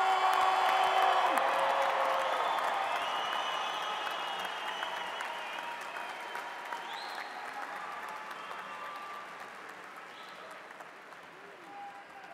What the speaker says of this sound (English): One more round of applause, class of